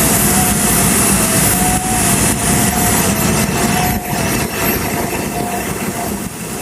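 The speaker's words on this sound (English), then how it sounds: "Engine RPM's coming up" A small SubSonex jet aircraft's engine revs up, a loud, continuous close roar with a thin steady whine riding on top, holding strong throughout.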